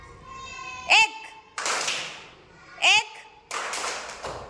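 Schoolchildren in a Zilla Parishad school classroom clap their hands in a concentration game, two sharp claps about two seconds apart, with a voice and a teacher counting between them.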